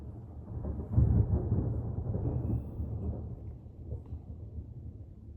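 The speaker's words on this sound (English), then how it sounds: "I don't know if we're going to get another clap of thunder, but it was pretty loud." A loud low rumble of thunder swells up and rolls on, slowly fading into a softer distant grumble with no voices.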